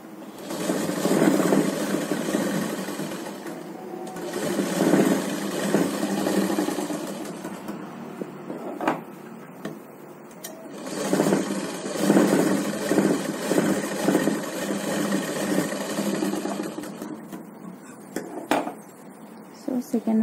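A sewing machine stitches a child's umbrella frock in long, close, steady whirring runs with brief stops, while a person talks over the machine throughout.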